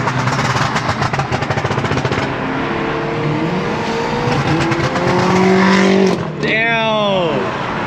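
A straight-piped Kia Stinger with no cats or rear mufflers roars loudly close by, the exhaust climbing in pitch through revs before cutting off, with excited voices talking over it.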